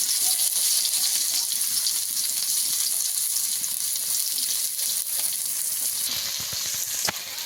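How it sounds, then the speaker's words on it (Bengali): Garlic and onion fry with white cumin in oil in a wok, giving a continuous, fairly loud sizzle with a few faint stirring clicks toward the end. "রসুন পেঁয়াজটাকে একটু ভালো করে ভেজে নেব"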